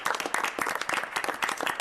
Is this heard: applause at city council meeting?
yes